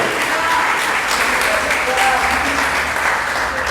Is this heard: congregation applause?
yes